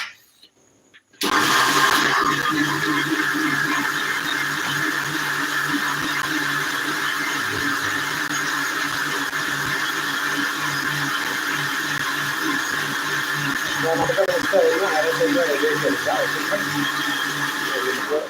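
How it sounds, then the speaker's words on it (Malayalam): An electric mixer grinder whirs steadily, loud and close, grinding ingredients for semiya payasam, switching on abruptly after a quiet moment and running without a break, with a slight change in pitch toward the end. "നമ്മൾ മിക്സി ഒന്ന് അരച്ചെടുക്കാം"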